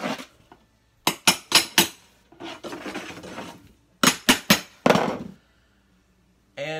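A laminate flooring pull bar is struck to draw the last floating-floor board into place, giving two quick sets of three sharp metallic taps, with scraping and shuffling between them and a final thud.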